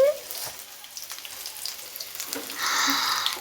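Chopped onions frying in mustard oil while being stirred in a home kitchen, a steady soft sizzle with light scraping that swells into a louder, brighter hiss near the end.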